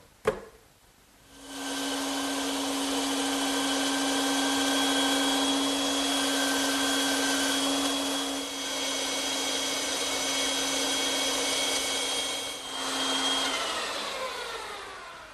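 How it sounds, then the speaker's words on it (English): A bandsaw cutting wooden shapes for coffee table feet runs for about thirteen seconds with a steady, loud whine and a sustained hum. The motor has a brief startup thump, the pitch dips slightly partway through, and no one talks. "now I can return to the bandsaw and cut those shapes out"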